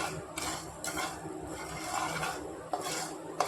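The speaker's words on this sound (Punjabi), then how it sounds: "ਫਿਰ ਆ ਕਾਲੀ ਮਿਰਚ ਤੇ ਜੀਰਾ ਜੀ ਇਹਨੂੰ ਆਪਾਂ ਥੋੜੀ ਦੇਰ ਭੁੰਨ ਲਾਂਗੇ" Black pepper and cumin dry-roasting in a pan for a pickle, heard as soft, intermittent scraping and rattling as the spices are stirred, with faint clinks of utensil on metal.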